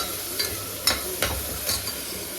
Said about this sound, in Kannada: ಅದನ್ನು ಕೂಡ ಹಾಕ್ಕೊಂಡು ಸ್ವಲ್ಪ ಫ್ರೈ ಮಾಡ್ಕೊತೀನಿ